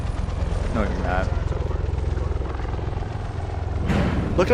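Helicopters in a video game give off a steady, close rotor thrum that chops rhythmically throughout. Voices talk over the noise at times.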